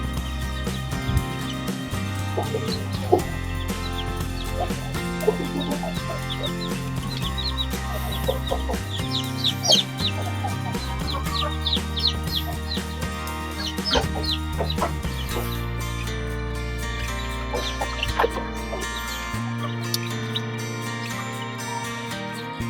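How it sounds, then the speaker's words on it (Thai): Baby chicks raised after hatching in a homemade plastic-box incubator peep in quick, high chirps that repeat throughout. The chirps are scattered over steady background music, and no one speaks. "ลูกไก่ก็แข็งแรงดีนะครับ"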